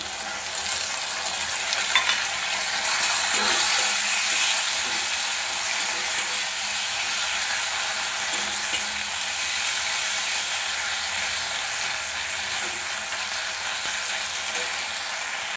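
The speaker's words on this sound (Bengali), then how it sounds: "এবার এর মধ্যে দিয়ে দেবো আদা রসুনের পেস্ট" Ginger garlic paste frying in a pan gives a steady, even sizzling hiss with faint scraping and stirring clicks throughout, with no voices.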